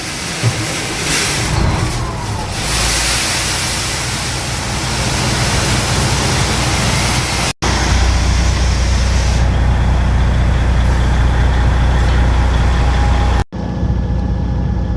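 Truck engine at a grain elevator in Thamesford, Ontario, running with a loud, steady low rumble and broadband roar throughout, broken by two brief cuts, with the engine note strengthening after the first.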